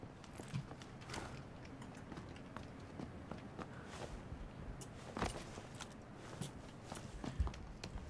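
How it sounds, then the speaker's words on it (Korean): Footsteps sound overhead inside a building in PUBG, a quiet run of soft, irregular thuds and scuffs under a low hiss. "위에 발소리 아니에요?"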